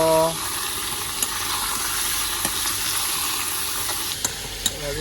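Meat frying in a pan with onions and garam masala, a continuous close sizzle with a few sharp clinks of stirring, while a person talks over the cooking.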